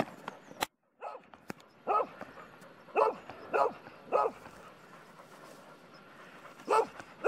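A dog by a lighthouse on the Isle of Bute barks repeatedly outdoors, with single sharp barks spaced irregularly over several seconds, moderately near, between quieter stretches of background noise.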